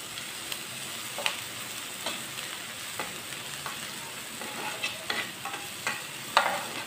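Finely chopped onion and green chillies frying in a pan, with a steady soft sizzle and intermittent scrapes and taps from stirring, close and fairly quiet, with no talking.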